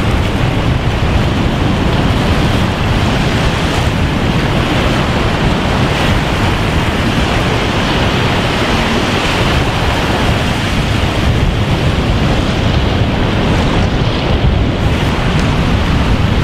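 Ocean waves break on a sandbar at a beach by a fish camp, making a loud continuous broadband roar of surf with wind rushing over the microphone and no clear gaps between waves.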